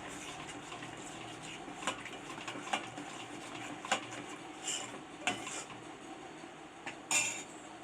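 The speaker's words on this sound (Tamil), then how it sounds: "இப்போ இதை நல்லா மிக்ஸ் பண்ணி விட்டுக்கலாம்." Sago and mashed moong dal payasam being stirred in a pot, a spoon clinking and tapping against the metal at irregular intervals over a quiet kitchen background.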